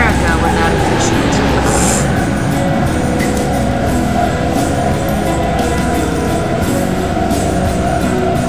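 A futuristic train rushes past in the game Dreamfall: The Longest Journey, a loud, steady rumbling roar with rattling high hiss throughout, while a person talks over it.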